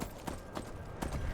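Horse hooves clip-clopping in Skyrim Anniversary Edition, a handful of soft evenly spaced thuds at a walking pace, faint and close, with no talk over them.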